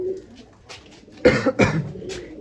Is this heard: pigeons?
yes